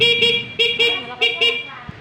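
Horn on a GB2 NWOW e-bike beeps in four quick electronic bursts, loud and close, each a short bright tone with a gap between.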